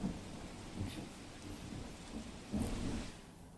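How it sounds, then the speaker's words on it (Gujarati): Heavy monsoon downpour over Ahmedabad: a steady, dense broadband roar of rain throughout, swelling briefly in two louder surges, with no voices. "ભારે વરસાદ જે વરસી રહ્યો છે, વરસાદનું જોર પણ આપ જુઓ વધારે જોવા મળી રહ્યું છે."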